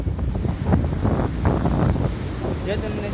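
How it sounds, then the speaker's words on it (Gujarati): Sea waves rolling and breaking on the shore at Porbandar, a close, roaring wash buffeted by heavy wind against the microphone, with no talk. "જો કેવા મોજા મારી રહ્યો છે"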